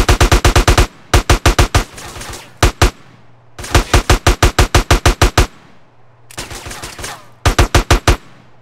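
Loud automatic gunfire in GTA San Andreas on PC, with rapid bursts of evenly spaced shots broken by short pauses and repeated several times, close and dominant.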